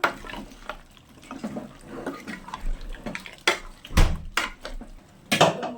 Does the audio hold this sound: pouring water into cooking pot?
yes